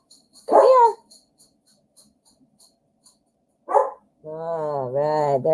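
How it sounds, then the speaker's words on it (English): Dogs bark at a UPS delivery driver arriving with a parcel: two sharp, loud barks spaced a few seconds apart, followed by a longer drawn-out whining howl, with no talking. "good thing you're barking at that evil UPS guy"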